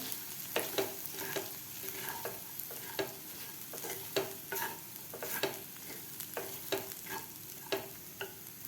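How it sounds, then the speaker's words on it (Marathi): Crushed peanuts and potatoes fry in oil in a pan, with a quiet continuous sizzle broken by frequent close spatula scrapes and clicks in an uneven stirring rhythm, and no one speaking. "शेंगदाण्याचं सुद्धा आपल्याला या बटाटेबरोबर तेलामध्ये फ्राय करून घ्यायचं आहे"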